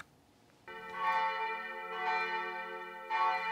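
Church bells of an abbey in a Normandy village ring out in repeated peals, clear bright tones swelling after a short quiet start, with no talking over them.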